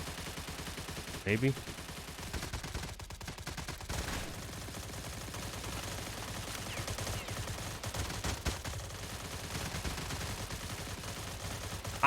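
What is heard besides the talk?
HK G3A1 rifle full-auto gunfire, video game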